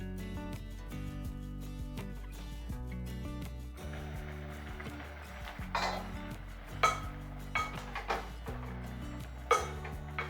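Avial vegetables being stirred in a pot, a few clinks and scrapes of a spoon against metal coming in the second half, faint and set against steady background music.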